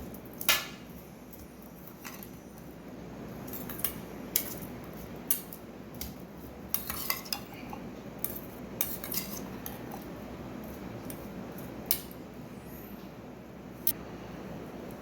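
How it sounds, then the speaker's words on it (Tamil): A spoon mixes sweet corn chaat with chaat masala and squeezed lemon juice in a bowl, giving quiet soft stirring with scattered sharp clinks against the bowl. "இப்போ இது எல்லாத்தையும் நல்லா மிக்ஸ் பண்ணிவிட்டு"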